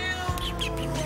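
A very overweight female Tonkinese cat meows in a drawn-out, wavering cry, heard close and clear against a steady low hum, with no talking.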